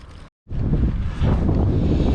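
Strong wind buffets the microphone in a loud, continuous roar as someone rides into a headwind, briefly cut off before gusting back even harder.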